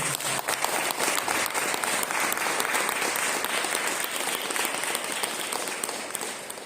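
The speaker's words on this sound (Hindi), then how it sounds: "ताली बजा रही हैं।" Sustained applause from a crowd at an inauguration prayer gathering, dense and steady throughout, tapering slightly toward the end.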